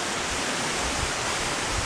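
Steady, dense rush of a waterfall near Sombrio Beach on Vancouver Island, a continuous broadband roar with no pauses, close and loud throughout.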